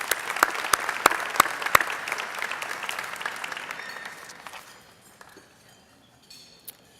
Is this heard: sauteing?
no